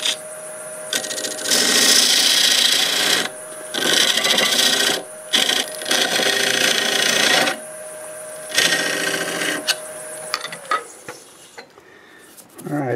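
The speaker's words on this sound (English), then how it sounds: "this is my little homemade dovetail cutter." Homemade dovetail cutter scraping black locust wood spinning on a lathe, loud rasping bursts of a few seconds each separated by short pauses, close and harsh.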